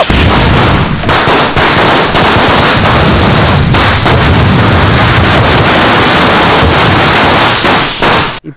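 Powerful firecrackers bursting in a rapid, continuous chain of loud, close explosions that runs for about eight seconds before cutting off, with a final lone bang.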